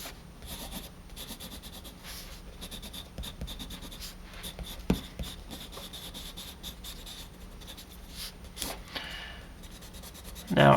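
Steady scratching and rubbing of a custom thick dark-lead pencil, roughly 3 to 5 millimetres, on paper during a drawing session, close and continuous with small strokes and pauses, no talking.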